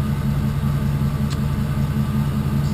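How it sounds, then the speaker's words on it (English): Idling engine of a 2011 Fleetwood Jamboree Sport 31N motorhome at the exhaust, a steady low rumble held close and loud for the whole stretch with a brief faint tick midway. "your exhaust here, engine running."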